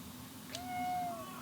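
A cat gives a single short, rising meow close by, fairly quiet, against a low indoor hum.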